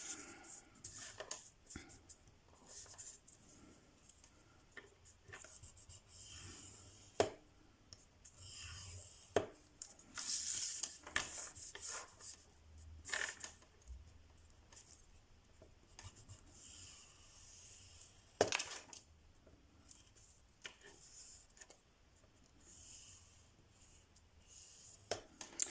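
Pencil or scoring tool marking fold lines on paper for die-cut storage pouches, intermittent close scratching and tapping strokes with soft quiet talk in between.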